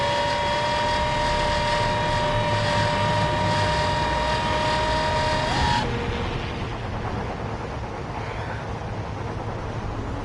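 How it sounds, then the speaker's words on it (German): Airplanes flying overhead in the VR game Wanderer: a steady, loud engine drone with tonal whine that drops in pitch and fades partway through, leaving a quieter hum. "kommen schon wieder Flugzeuge"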